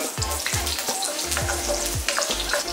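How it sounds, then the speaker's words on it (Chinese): Garlic and ginger sizzle loudly in hot oil in a wok, a steady crackling fry with repeated scraping stir strokes, close and continuous with no voices. "再重新起锅烧油，下蒜头姜"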